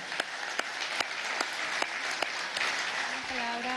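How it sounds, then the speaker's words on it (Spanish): Steady audience applause at an international summit against fascism, moderately distant, with a few sharp individual claps standing out and a voice entering near the end. "Ese aplauso para todos ustedes."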